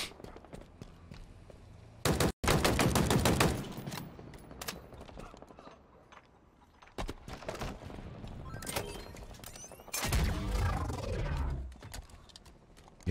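Rapid bursts of automatic gunfire from a machine gun in the video game Halo Infinite, loud and dense in a couple of stretches with other game sounds and rumbling effects between them.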